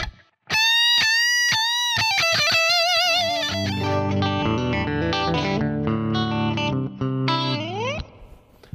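An electric guitar plays a metal solo through a Line 6 AMPLIFi practice amp: distorted, sustained lead notes with bends and fast runs over a dense, loud tone that rings out near the end.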